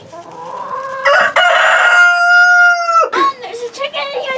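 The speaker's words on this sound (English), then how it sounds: "There's a chicken in here trying to peck me." A rooster crowing in a hen house where eggs are being collected, one loud, close, drawn-out cock-a-doodle-doo lasting about two seconds, followed by shorter clucks and calls.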